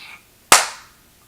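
A single loud hand clap rings out sharply at close range after a brief quiet moment, then decays quickly into silence.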